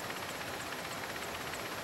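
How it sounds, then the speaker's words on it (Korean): A helicopter flying into the Ituri rainforest in Africa gives a steady, faint rotor and engine drone with a soft rhythmic chop, distant and uniform throughout. "헬리콥터는 지금 아프리카의 열대우림 속으로 들어가고 있습니다"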